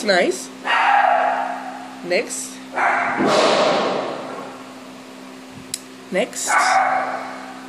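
A dog barks in short bursts a few times, close by, alternating with a person talking calmly between the barks.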